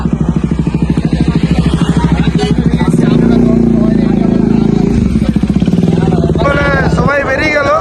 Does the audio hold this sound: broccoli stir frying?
no